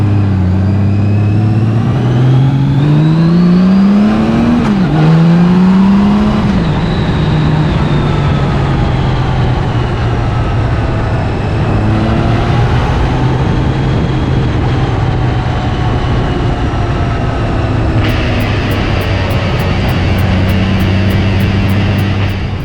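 A Honda Goldwing motorcycle engine on a test ride after wiring harness repair runs loud and steady, rising and falling in pitch as it revs and accelerates, heard close with no talking.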